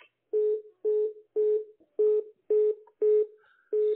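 A phone call to a non-working number gives a steady series of short, evenly spaced tone beeps, about seven of them, clear and alone with no talking.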